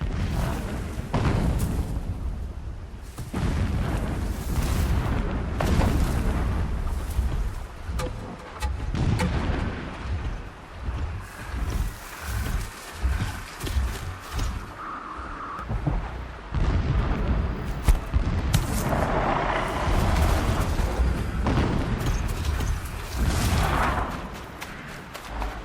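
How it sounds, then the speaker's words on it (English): Heavy booms and rumbling blasts from distant explosions in the video game Horizon Zero Dawn, loud and sustained with repeated thuds and no speech. "Explosions in the distance."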